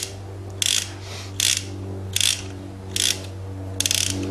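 Ratcheting clicks from a RAP4 T68 paintball magazine being wound up by hand, heard as five or six short, crisp bursts of rapid clicking spaced about a second apart, close and clear over a low steady hum.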